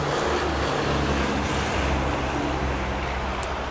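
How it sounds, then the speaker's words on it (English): Heavy trucks roar past nearby, a steady broadband rumble of engines and road noise that holds loud and unbroken throughout. "Big noisy trucks."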